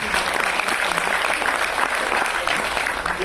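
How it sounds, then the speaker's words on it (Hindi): Steady, continuous applause from an auditorium audience at a community association function while a ceremonial lamp is lit, a dense even wash of clapping throughout. "आप अपनी तालियों से दीप जला दीजिए।"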